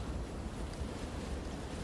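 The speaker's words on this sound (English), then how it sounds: "really windy out here" Wind blows outdoors, buffeting the microphone as a steady, dense rumbling roar for a couple of seconds, with no other sounds.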